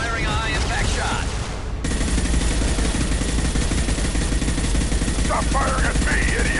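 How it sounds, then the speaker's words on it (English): High-impact shot fired in Mass Effect 2 combat: loud, dense gunfire bursts fill the scene continuously, with a brief voice line heard early and another faint voice near the end. "Firing a high-impact shot."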